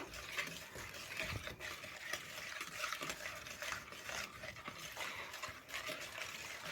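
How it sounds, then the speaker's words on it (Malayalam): Eggs being stirred with three teaspoons of sugar in a bowl for a banana fritter batter, a steady scraping and clinking of utensil against bowl running continuously at moderate level with no talking. "ഇത് മൂന്ന് ടീസ്പൂൺ പഞ്ചസാര ഇട്ട് നല്ലോണം ഇളക്കി കൊടുക്കുകയാണ്"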